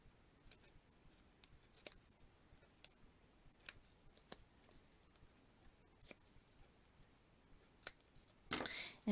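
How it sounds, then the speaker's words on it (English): Scissors trim small paper tips while making a woodland embossed card: a series of crisp, close snips spaced irregularly, with a louder rustle of paper just before the end and no speech. "these little tips here I'm just going to trim with my scissors"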